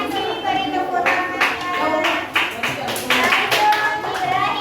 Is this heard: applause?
yes